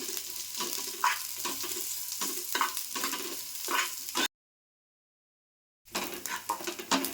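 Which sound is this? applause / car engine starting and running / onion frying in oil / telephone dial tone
onion frying in oil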